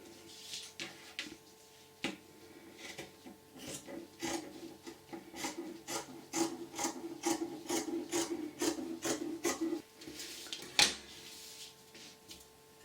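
Scissors cut through fabric for the slit of a pencil skirt, giving a run of short rasping snips that grow denser and more regular midway through, close and moderately loud with no talk.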